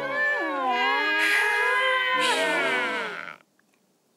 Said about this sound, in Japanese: こんなところに猫なんて珍しい。